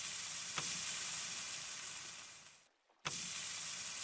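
Fifteen kebabs sizzle on a barbecue grill in the game Minetest, making a steady bright frying hiss that briefly cuts to silence before resuming.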